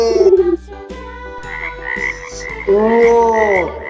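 A frog croaks in a run of raspy, pulsing calls, close and clear, ending in a stronger drawn-out croak over a quiet background melody.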